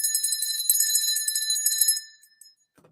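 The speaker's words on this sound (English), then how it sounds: "Can you hear the bell?" A bell rings with a bright, sustained metallic tone for about two seconds, then cuts off into near silence, heard alone and fairly close.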